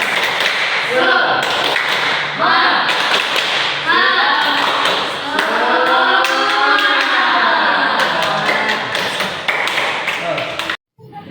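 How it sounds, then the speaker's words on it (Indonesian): Third-grade elementary schoolchildren in a classroom chant together while clapping in rhythmic bursts during a spirited ice-breaker clap, the loud group voices and taps repeating in sequence before stopping abruptly. "Ice breaking, tepuk semangat ya. 1, 2, 3, tepuk semangat."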